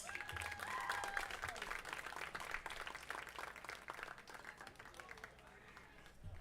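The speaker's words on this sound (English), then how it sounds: "let's get one more round of applause for the baseball class of" Sustained crowd applause and clapping at a high school varsity baseball senior night honoring the senior class, West Lincoln vs. Salem, loud and steady before gradually easing, with an announcer's voice over the start.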